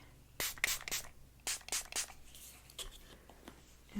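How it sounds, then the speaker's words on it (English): A spray bottle mists hair during a hair and makeup styling session, with several short hissing bursts in quick succession followed by quieter soft rustling, close and gentle. "I'm gonna give it one last spray."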